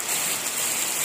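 Steady rain pours down in humid monsoon weather, a continuous even hiss close by with no break, with no voices.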